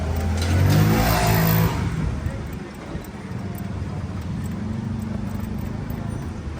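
Arora Cappuccino 125 cc motorcycle engine being turned over during a repair, a rough mechanical churning and rumble that swells early then settles into a steady lower drone, with voices nearby.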